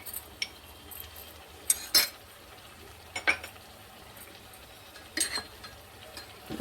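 A spoon scrapes and clinks against a pan while fish curry with curry leaves is stirred, a few sharp metallic taps over a faint, steady sizzle, close and fairly quiet, without talk.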